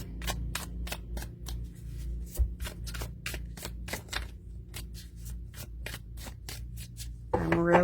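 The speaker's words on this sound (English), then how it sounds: "I wanted to give them a quick shuffle" Voice & Vision tarot cards with gilded edges are riffle-shuffled in a steady run of about twenty crisp, evenly spaced flutters, close and clear over a low steady hum, ending in a brief louder rustle.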